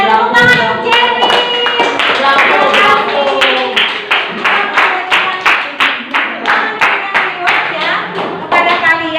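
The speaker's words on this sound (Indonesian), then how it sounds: "Ya, tepuk tangan untuk Jerwin" Classroom students clapping for a classmate, sharp close claps that start as a dense burst and settle into a rhythmic, evenly spaced beat, with voices faintly present in the background.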